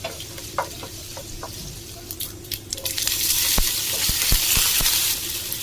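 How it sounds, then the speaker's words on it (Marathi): Urad dal, ginger, green chilli pieces and curry leaves sauté in hot oil with a steady sizzle that swells in the second half, broken by sharp clicks and scrapes of stirring. "दोन चमचे तेल अर्धा चमचा राहू अर्धा चमचा उडदाची डाळ अर्धा चमचा अद्रक दोन तीन हिरवी मिरचीचे तुकडे थोडासा कढीपत्ता"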